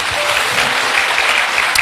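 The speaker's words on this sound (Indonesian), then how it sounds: "Berikan tepuk tangan kita untuk Tuhan kita." A church congregation breaks into applause after a sermon, dense and continuous clapping close by and fairly loud, with no talking over it.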